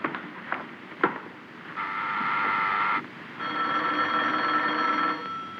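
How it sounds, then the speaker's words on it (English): A telephone rings in the main-floor hall of a building, about three long ringing bursts at moderate level, with brief knocks and room noise between them. "Phone's ringing."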